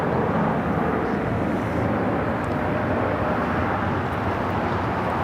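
Steady broadband jet roar from a Bombardier Global Express business jet at LAX, loud and unbroken throughout with no clear rise or fade.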